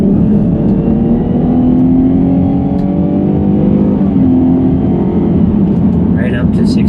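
A 2015 Dodge Grand Caravan's engine revs hard up toward 6250 rpm, a loud, sustained drone climbing steadily in pitch heard from inside the cabin, with a voice talking over it.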